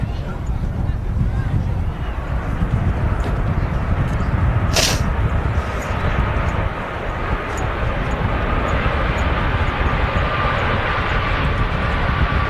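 A Boeing 737 MAX airliner arriving from Faro roars at Manchester Airport on a hot day, a loud, broad, continuous engine rumble that stays strong throughout, with a brief sharp sound partway through.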